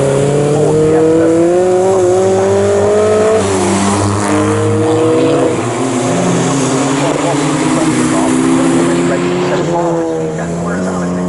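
Ford Fiesta race cars at Snetterton in a BRSCC club race, loud nearby engines revving and shifting through gears with rising and falling pitch, under continuous commentary.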